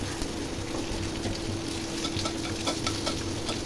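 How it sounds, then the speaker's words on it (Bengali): Dry red chilli pieces and panch phoron spices fry in hot oil in a pan for a Bengali rohu fish curry, a soft continuous sizzle with light crackles and faint stirring scrapes, no voices. "শুকনো লঙ্কা পাঁচ ফোড়ন ভেজে নিলাম"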